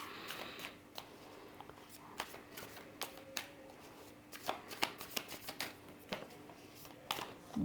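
A deck of tarot cards gets shuffled in quick, soft riffles and flicks, a run of light papery snaps that grows busier toward the end, with quiet speech in the background.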